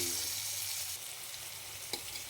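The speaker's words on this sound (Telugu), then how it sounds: "పోపులోకి నెయ్యి వేస్తున్నాను మినపప్పు చిన్నపప్పు ఆవాలు జీలకర్ర పచ్చిమిరపకాయలు" Tempering of black gram, split chickpeas, mustard seeds, cumin and green chillies frying in ghee: a soft, steady hiss that drops slightly partway, with a faint clink near the end, no voices.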